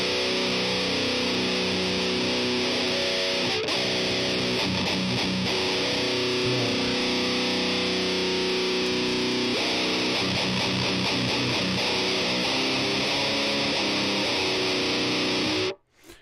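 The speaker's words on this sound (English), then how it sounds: "So we've added this crazy distortion." Electric guitar played through a heavy distortion effect in the Tonebridge iOS app, a thick, saturated sustained tone with chords ringing continuously for about fifteen seconds before cutting off.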